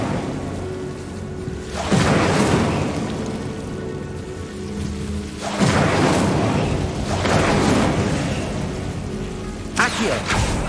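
Incendio fire spell cast in Hogwarts Legacy, heard as loud whooshing, crackling bursts of flame that swell three times over roughly ten seconds, each surge rumbling and roaring before settling into a lower steady hiss.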